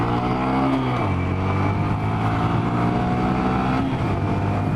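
A Honda Grom motorcycle held at full throttle, its engine droning loud and steady with a slight shift in pitch early on, close and continuous with no talking.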